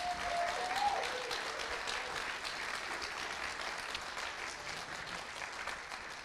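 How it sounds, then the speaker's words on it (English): An audience at a live debate claps steadily in a dense, even round of applause that holds for several seconds, heard from within the room at moderate distance. "Give them one more round of applause."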